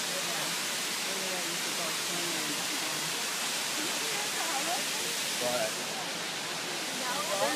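A waterfall roars as a dense, steady wash of noise close by, with people's voices talking faintly underneath it.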